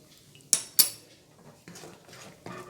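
A spoon stirs spinach soup in a pot, giving two sharp metallic clinks followed by softer scraping and swirling strokes, close up and with no voice.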